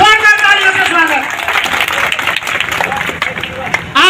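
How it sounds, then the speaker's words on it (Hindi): A crowd at a political event in Haryana claps loudly to welcome Kiran Chaudhary, dense applause and cheering under a voice speaking over a microphone. "एक बार जोरदार तालियों से, गड़गड़ाहट से स्वागत, जोरदार तालियों से स्वागत।"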